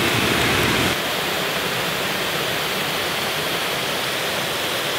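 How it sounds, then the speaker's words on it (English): Two river waterfalls rush nearby in a steady, loud, broadband roar of falling water that continues unbroken throughout. "there are two waterfalls"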